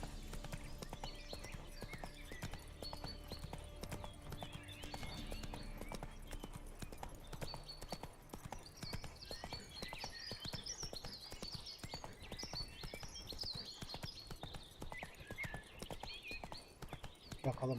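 Horse hooves clip-clop in a steady rhythm while riding in The Witcher 3 video game, faint and continuous beneath game ambience, with occasional speech over it.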